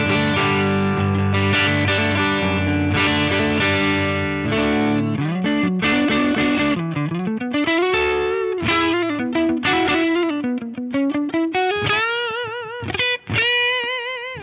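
An electric guitar on its neck pickup with all controls up plays a melodic phrase through BBD delay and large room reverb, with slight breakup, ringing sustained notes, bends and repeating echoes filling the space without any talk.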